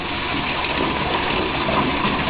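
Water gushes steadily into a bathtub, a loud, continuous broadband rush that holds even throughout with no pauses and no talking.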